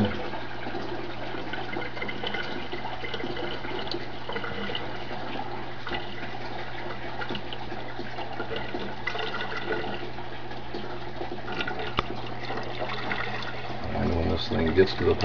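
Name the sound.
aquaponics siphon draining water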